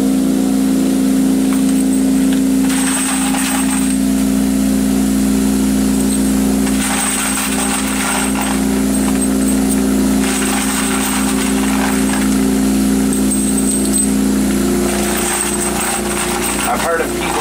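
A Dillon CV 2001 brass case tumbler runs loudly with a steady low drone and hum, while brief bursts of rattling hiss rise and fade over it. No one speaks.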